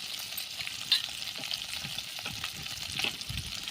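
Fish pieces for a spinach fish dish fry in a pan, pushed to one side, with a continuous close sizzle and sputtering crackle that stays even throughout, no voices.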